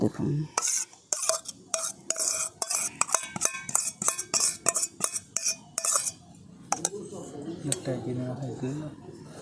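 Puffed rice is worked together with fresh malai into a dough in a bowl, giving a run of close, repeated scraping and clinking strokes that later soften into muffled mixing, with a voice talking over part of it.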